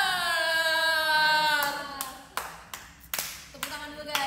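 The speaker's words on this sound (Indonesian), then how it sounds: "Tepuk tangan dulu guys" A few hand claps during an Indonesian idol livestream, separate sharp claps spaced irregularly after a sustained sung or hummed tone, close to the microphone.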